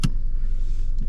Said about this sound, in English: Let's see if the car moves.